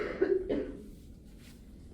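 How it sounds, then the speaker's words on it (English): One person coughs in a lecture hall, giving a short, close pair of harsh coughs at the start that fade into quiet room tone. "don't cough on me."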